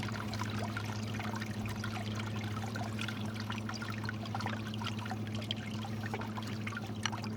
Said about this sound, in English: Travis gonna grab that turkey baster and kind of squirt everything out to the sides